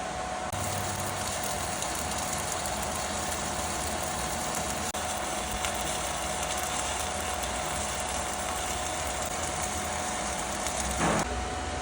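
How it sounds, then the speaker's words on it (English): A cheap 110V stick welder lays a stringer bead with a 7018 rod, giving a steady, close, continuous crackling hiss that runs unbroken for about twelve seconds without speech. "Just go ahead and throw a 2-stringer bead cap and see how it comes out."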